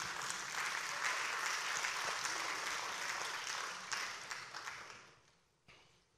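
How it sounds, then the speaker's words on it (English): An audience at a memorial home-going service applauds, a dense steady wash of clapping that holds for several seconds and then thins out and fades as a few last claps trail off. "Thanks for clapping"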